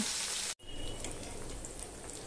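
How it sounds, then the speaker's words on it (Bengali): Paneer sizzles and fries in a pan, a dense steady crackle with a brief cut partway through, then continuing evenly up close with no talk. "এই পনিরটা কিন্তু আমি একটুখানি লাল লাল করেই ভেজে নেব।"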